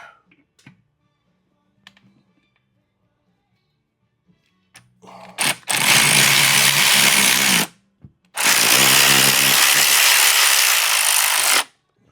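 Power tool running down a bolt on a motorcycle compensator cover of a 2024 CVO/ST 121, two loud sustained ratcheting bursts of about three seconds each after quiet clicks and handling noises.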